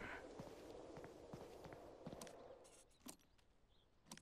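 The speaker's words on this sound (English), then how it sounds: "I heard a random footstep." Footsteps sound in the low-poly survival game Drive 4 Survival, a quiet run of soft, evenly spaced steps that fades out, followed by a few sparse clicks.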